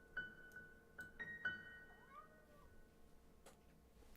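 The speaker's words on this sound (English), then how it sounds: "I gotta let my cat out." A pet cat meows several times in quick succession near the start, clear tonal calls with a softer drawn-out cry after, then quiet room tone.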